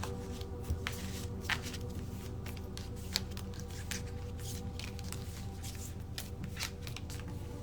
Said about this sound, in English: All right, let's pull some oracle cards.